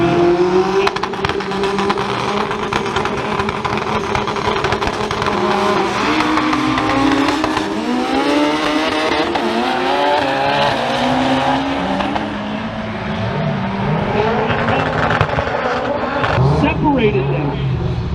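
Honda Civic wagon race car with a 2.2 liter engine at a junkyard-themed racing event, steady loud engine drone with shifting pitch and passing cars, under continuous commentary.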